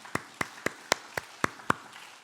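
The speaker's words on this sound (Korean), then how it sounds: "놀라운 일을 행하시는 주님께 영광의 박수를 올려드리도록 하겠습니다" Clapping in a church congregation: about seven crisp, evenly spaced claps in a slow, steady rhythm, each sharp and distinct, close by and with no voices over them.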